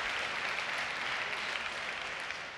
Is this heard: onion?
no